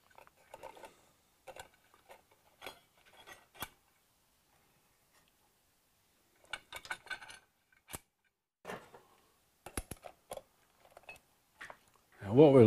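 Metal clicks and light clinks come in short, irregular bursts with quiet gaps as steel and friction clutch plates for a Ducati 900SS are stacked by hand, close up.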